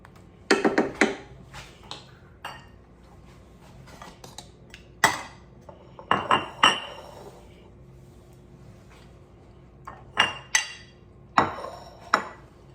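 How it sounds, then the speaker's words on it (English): Metal utensils clink and scrape against a bowl while angel hair pasta is plated for shrimp scampi, in scattered bursts of clatter separated by quiet pauses. "I'm just gonna go ahead and plate up me some angel hair pasta, and I'm gonna put this right on top of there."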